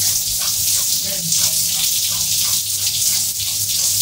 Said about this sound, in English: Literally, that's the pressure of my shower.